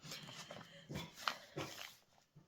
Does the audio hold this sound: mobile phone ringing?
no